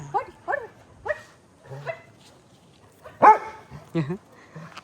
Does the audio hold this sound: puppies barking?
yes